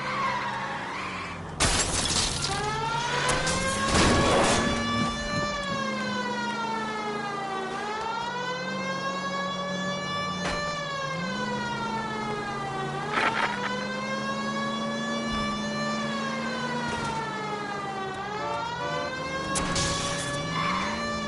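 Tires squeal and skid at length in a video game car chase against a Kaiser Frazer, with harsh crunching impacts near the start and again later, over a constant wailing, pitch-bending tone.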